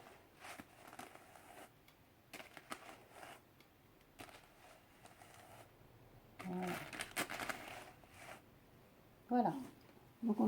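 Wool being worked between two hand carders gives soft, intermittent scratchy brushing strokes, quiet and close, with a few louder rasps toward the end.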